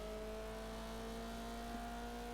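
Toyota Celica engine in Forza Horizon 4 holds a steady, even drone with a constant tonal whine throughout, sustained without obvious revving changes, heard alone at moderate level.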